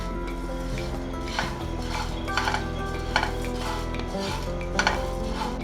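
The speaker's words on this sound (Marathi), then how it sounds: "मसाले छान भाजले गेलेत आणि थोडासा रंगही बदलतो स्पेशली धण्याचा रंग बदलतो" Coriander seeds and whole spices dry roasting in a pan for homemade garam masala, stirred steadily with a metal spoon, giving a continuous close scraping rattle with soft sizzle and occasional louder clinks against the pan.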